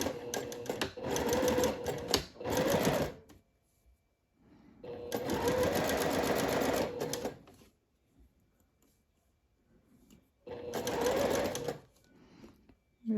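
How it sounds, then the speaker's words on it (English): A sewing machine running at rapid speed stitches seersucker fabric with a 1/2 inch seam allowance, sounding as three bursts of fast, even mechanical whirring, each a few seconds long, split by near-silent pauses, close and loud. "Now we're going to sew with a 1/2 inch seam allowance."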